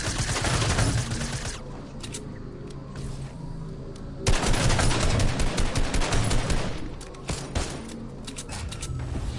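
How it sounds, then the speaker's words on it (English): Loud, sustained automatic gunfire from Fortnite rattles in two heavy waves, dense and close, with rapid shots overlapping and echoing before a short lull and a second burst. "People shooting at me?"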